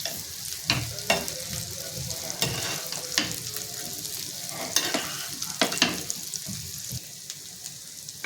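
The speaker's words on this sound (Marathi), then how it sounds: "ते मी असे तव्यावरती ठेवून घेणार आहे मीडियम ह्याच्यावरती आपल्याला ते भाजून घ्यायचं आहे" Veg burger tikkis cook on a hot griddle over medium heat with a continuous soft sizzle, broken by scattered clicks and knocks of a utensil against the pan.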